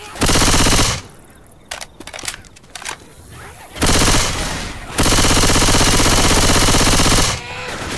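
Rapid automatic gunfire in Left 4 Dead 2, loud sustained bursts with short pauses between them, scattered smaller shots in the gaps.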